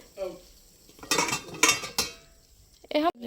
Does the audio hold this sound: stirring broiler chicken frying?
yes